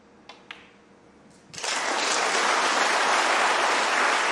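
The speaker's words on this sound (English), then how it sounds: "A justified round of applause" Snooker crowd at the Champion of Champions bursting into sustained applause after a century break, starting with a couple of isolated claps before a sudden, dense, even wash of clapping.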